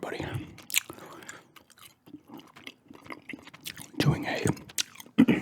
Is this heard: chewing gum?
yes